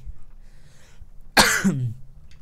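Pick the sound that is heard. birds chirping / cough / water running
cough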